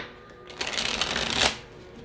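Tarot cards being shuffled close up, a single crisp riffling burst lasting about a second.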